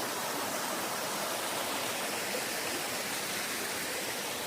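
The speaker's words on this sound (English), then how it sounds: "water's coming out, seeping all the way down" Steady broadband rush of water trickling and seeping over wet rocks along a rugged mountain trail at Sulphur Springs, Paris Mountain, a continuous close wash with no voices.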